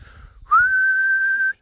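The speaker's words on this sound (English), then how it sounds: "two shotgun shells have been pressed together, making a fox whistle" A homemade fox whistle made from two shotgun shells pressed together is blown once. It gives a single loud, close, steady high tone that lasts about a second and cuts off cleanly after a few faint noises.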